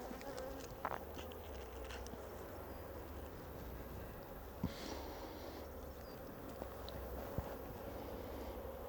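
Honey bees buzz in a steady, dense drone during an open hive inspection, the swarm hum continuous and close with a few faint knocks and rustles underneath.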